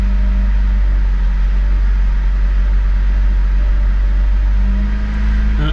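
A 1996–2000 Honda Civic LX with a D16Y7 engine and a dirty idle air control valve idles with a loud, steady hum that sags briefly near the end before recovering.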